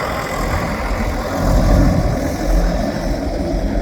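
A tractor engine rumbles steadily nearby on a farm, a low continuous drone that swells slightly midway, with no voices.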